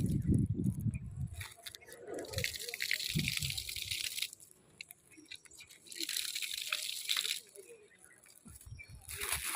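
Water splashing and pouring while feet are washed before climbing to a temple, in irregular gushing bursts and drips that come and go, close by and moderately loud.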